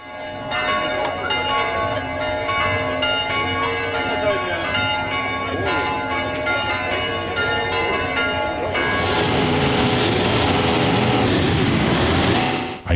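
Church bells in Groß-Olbersdorf ring before a Sunday service, a loud, sustained peal of overlapping tones that gives way to a broader noisy wash near the end.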